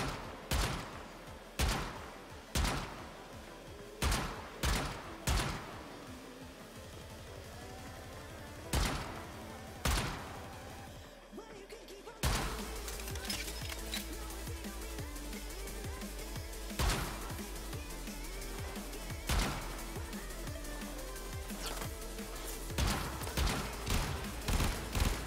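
Zenith rifle fire in the Warframe video game: loud close shots, single heavy blasts at first, then a dense rapid automatic stream with further bursts over it.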